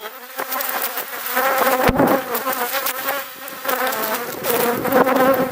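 Honeybees buzz continuously around an open beehive during an inspection of the supers and brood box, a close, dense drone with individual bees swelling and passing near.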